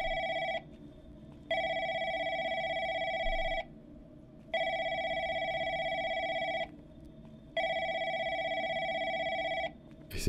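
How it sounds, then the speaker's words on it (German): A telephone bell rings in a horror video game set in a call centre, sounding loud, bright bursts of about two seconds with pauses between, repeating four times on its own. "Wo ist hier ein Telefon?"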